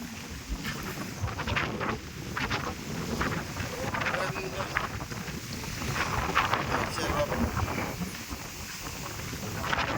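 Gusty wind buffets the microphone in a constant roar on a ride and hike up Mt. Calib-ungan, while a voice speaks faintly underneath.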